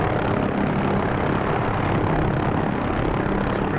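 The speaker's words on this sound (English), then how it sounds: "just kind of let the helicopter fly herself" An OH-6 helicopter in flight in the DCS World simulator, with a loud, steady, broadband engine and rotor roar throughout and no talking.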